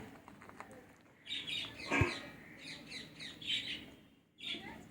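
A pet bird at home gives a series of short, close chirps and squawky tweets in quiet bursts, fairly soft overall.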